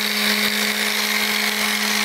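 An orbital sander works balsa wood for a CO2 dragster, giving a loud, continuous buzzing whir with a steady hum and gritty rasp throughout, no voices.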